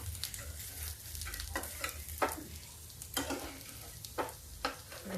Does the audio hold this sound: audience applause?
no